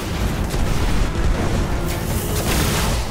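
Heavy booming blasts from a scorch cannon in the shooter game Destiny, a loud rumbling explosion that fills the whole moment with dense low roar and a couple of sharper bursts.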